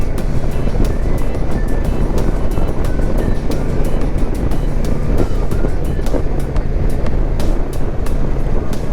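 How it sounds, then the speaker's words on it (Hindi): Constant loud engine and wind roar of a motorcycle cruising at speed on a highway, steady and unbroken, with buffeting gusts over the microphone. "लेकिन नहीं, अच्छी चल रही है बाइक।"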